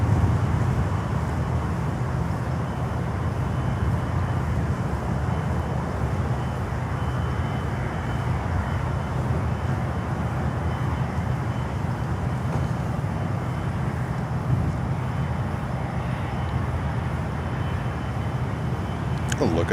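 Avianca Cargo airplane at Miami airport, a steady broadband jet roar held at an even level throughout, with voices talking over it.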